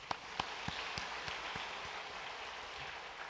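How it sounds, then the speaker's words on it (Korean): Church congregation applauding during Sunday worship announcements to honor everyone who took part in an all-church sports day: a faint, distant, steady patter of many hands with a few sharper individual claps standing out, and no talk. "참여하시고 수고하신 모든 분들 박수로 격려하겠습니다"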